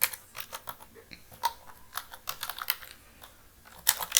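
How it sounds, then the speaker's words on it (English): Typing on a computer keyboard at a desk, quiet close clicks in uneven bursts with short pauses between, and a quick flurry of keystrokes near the end. "So I will simply type here"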